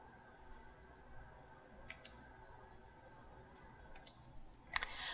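Faint mouse clicks come from work in the STIMS vendor software, three soft clicks spread apart over a quiet hum, then a sharper louder click near the end.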